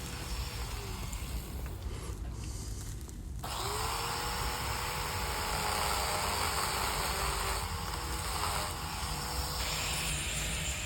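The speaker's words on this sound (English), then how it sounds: "Now I've gone back to that electric chainsaw, and I'm just going to cut the outline, the inside of the mouth, the lips" An electric chainsaw cuts the outline and mouth of a tiki face in driftwood, a loud, close, continuous motor whine that shifts in pitch as it bites into the wood and eases off, with no voices.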